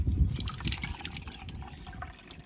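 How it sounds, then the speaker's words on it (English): Clear water poured into a medaka ricefish tank, a steady close trickle and gush of liquid with bubbling splashes, strongest at the start and easing into a continuous pour for the rest. "Just add a little bit of clear water."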